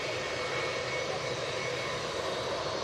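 An EasyJet airliner at Manchester Airport runs up on its takeoff roll, a constant, fairly distant jet-engine roar with an even, unbroken texture.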